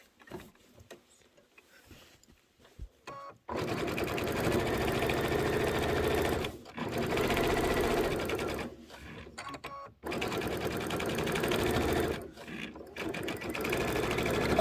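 A quilting project's seam is stitched in the ditch on a sewing machine, running in steady bursts of rapid mechanical whirring with short pauses between runs, close and loud, preceded by quiet handling sounds.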